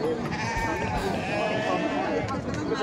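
Sheep bleat among the pens at a livestock fair for pigs, sheep and goats, several overlapping calls close by amid a busy crowd, while someone talks over them.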